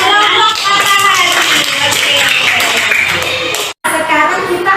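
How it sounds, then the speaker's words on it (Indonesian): Students clap their hands together in a classroom for a small group, a dense, steady burst of applause that carries on for several seconds with a brief break near the end. "Tepuk tangan dulu buat kelompok matahari."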